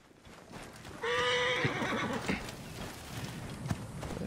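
A horse in Assassin's Creed Origins gives one loud, drawn-out neigh that quavers and drops off, followed by softer snorting and hoof shuffles in the background.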